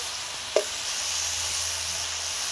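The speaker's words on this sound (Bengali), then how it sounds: "একটু নাড়াচাড়া করে দিয়ে দেব আমি সবজিটা" Vegetables sizzle steadily in a pan; a single sharp clank of the spoon opens, then a continuous close frying hiss runs on alone.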